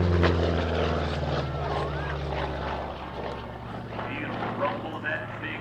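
Warbird aircraft with a big 14-cylinder, 2,000 horsepower radial piston engine swinging around at an air show, a steady, loud, deep propeller rumble that drifts slightly as the plane moves, with an announcer talking over it.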